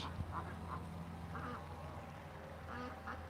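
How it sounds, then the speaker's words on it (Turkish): Ducks quacking nearby in a small animal enclosure, several short quacks in scattered bursts over a low steady hum. "ördeklerimiz burada"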